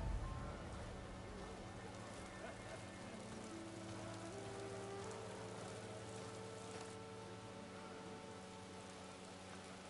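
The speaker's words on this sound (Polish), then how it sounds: "Jakiś deszcz pada." Steady rain falls in the video game Horizon Forbidden West, a constant wash of patter that stays even throughout with a faint tonal game score underneath.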